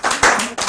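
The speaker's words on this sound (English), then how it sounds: "So we applaud the men who are with us on this journey." An audience claps briefly, giving a short burst of close applause.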